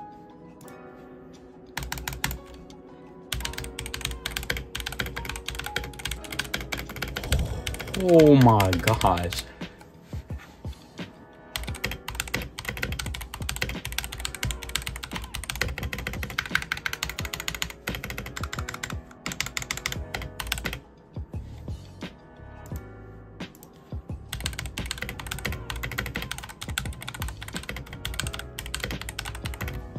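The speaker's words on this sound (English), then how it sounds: "it's time to do a typing test" Rapid, clacky typing up close on a Redragon K631 Pro gaming keyboard, coming in fast bursts separated by short pauses, with a brief spoken exclamation partway through.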